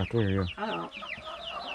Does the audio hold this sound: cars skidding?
no